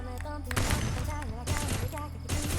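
Bursts of rapid gunfire from a first-person shooting video game played with a headshot aim-lock setup, loud and dense, filling the whole stretch alongside other in-game sounds.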